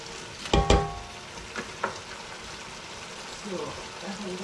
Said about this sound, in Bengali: জিঞ্জার গার্লিক দিয়ে দিতে হবে সাথে পেঁয়াজটা ভালো করে কষিয়ে নিচ্ছি